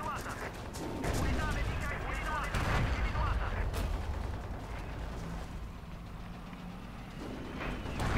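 Rifle and other weapon fire crack and boom in a Forgotten Hope 2 multiplayer battle at Bardia, with sharp shots scattered over rumbling distant fire and a voice talking over parts of it.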